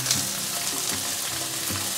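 Tofu skin rolls pan-fry in oil, giving a quiet, even sizzle with soft crackles and a faint intermittent low bump of the pan, with no one speaking.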